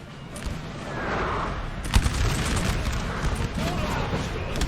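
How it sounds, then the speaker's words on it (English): Artillery fire rumbles through a large Napoleon Total War battle, with distant booms under continuous battle noise, one sharper blast near the middle, and someone talking throughout. "4 cavalry getting shot by artillery."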